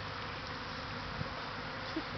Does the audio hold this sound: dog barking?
no